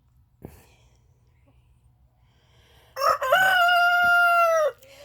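Among backyard hens, a young rooster lets out one loud, close crow lasting about two seconds, after a quiet stretch with a faint cluck and some low background rumble.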